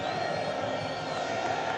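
A packed Tanzanian stadium roars after a goal in a Simba SC versus Namungo FC Premier League match: dense, sustained crowd cheering that fills the space, steady and loud, with commentary voices blended in.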